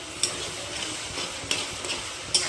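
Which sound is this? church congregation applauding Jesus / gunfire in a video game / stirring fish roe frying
stirring fish roe frying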